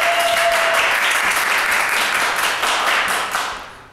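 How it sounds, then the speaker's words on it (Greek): Warm applause from a studio audience welcoming a guest onto a cooking show, a dense wash of clapping filling the whole short stretch and tapering slightly at the end. "Ένα χειροκρότημα"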